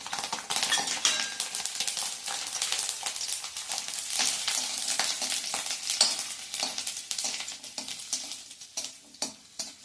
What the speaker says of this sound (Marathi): हे लसूण पाकळ्या पण छान लाल होईपर्यंत म्हणजे खरपूस होईपर्यंत परतून घ्यायच्यात.